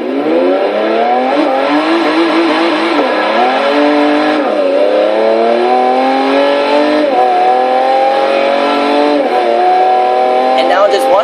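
A 2012 Pagani Huayra engine revs repeatedly in Forza Motorsport 6, its pitch climbing and dropping through several gear-like sweeps, loud and continuous, with a synthetic, game-like tone and brief voice traces.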